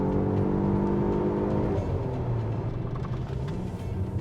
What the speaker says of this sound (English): Ah, first good rev match on a downshift, excellent.